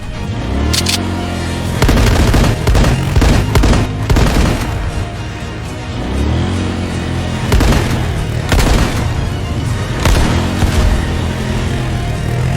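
Loud, close gunfire rattles out in repeated bursts, sharp cracks and booms stacking into rapid volleys with brief gaps between them across the whole stretch.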